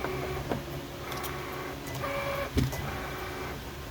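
A Cricut Mini cutting machine runs with a whirring motor and repeated mechanical ticks and clicks as its carriage moves, close and fairly quiet, with no voices.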